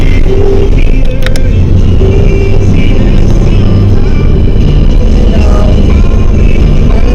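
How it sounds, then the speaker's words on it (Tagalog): Dense road traffic in Hong Kong fills the scene with a loud, continuous engine rumble and passing vehicles, a brief sharp clatter near the start and faint voices in the background. "Traffic."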